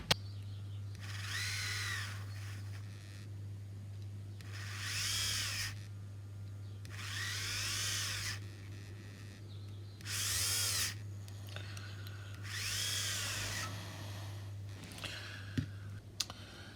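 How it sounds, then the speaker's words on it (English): A small hand-held power drill boring out spark plug holes in a plastic cylinder part of a Tamiya 1/32 Mosquito model kit, buzzing in five separate short bursts over a steady low hum, close and fairly quiet. "I need to drill out the spark plug holes here in this side of the cylinder."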